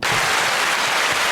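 A short burst of dense, loud clapping and cheering from a crowd, used as an applause sound effect, steady and continuous for just over a second.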